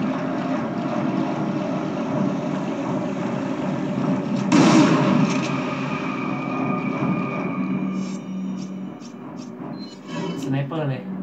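A single sharp sniper rifle shot bursts out in the PS2 version of Resident Evil 4, rising above a steady, rumbling game backdrop that continues before and after.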